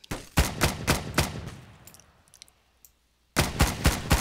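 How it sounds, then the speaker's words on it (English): A Tommy gun fires in bursts inside Garry's Mod: two rapid strings of loud, sharp shots split by a pause of near silence, each volley punchy and close. "Tommy gun."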